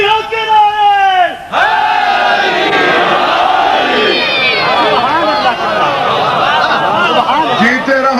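A large gathering at a religious majlis gathering roars out a slogan in honour of Mola Ali, the loud massed voices swelling together and sustained for several seconds after a brief lone voice.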